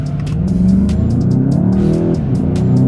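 A VW Golf GTI driven hard in rally style, its engine loud and close as it revs and accelerates with a rising tone, then briefly drops before pulling again.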